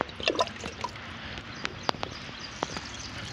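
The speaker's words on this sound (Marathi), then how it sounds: "टाक अजून पाणी." Water poured out by hand at an outdoor farm party, short splashing trickles and drips near the start, then a few scattered sharp drip-like ticks over quiet outdoor background.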